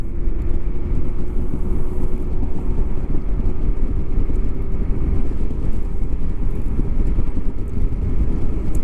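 A 60 mph electric scooter accelerates hard on a single motor, giving a loud, steady rush of wind and road roar with a faint constant motor hum throughout and no talking.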